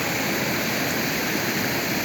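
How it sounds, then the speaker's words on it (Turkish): Flood water rushes over a stream in a steady, loud, dense roar of churning water, continuous and unbroken, with no voices heard. "Su sel baskın. Önüne geçemezsin kesinlikle."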